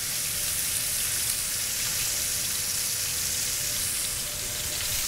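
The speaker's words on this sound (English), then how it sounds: "after I've seared both sides, I like to stand them up and get that fat nice and crispy as well" New York strip steak sears in a hot pan, giving off a steady, dense sizzle and crackle of fat that holds close and loud throughout, with no voices over it.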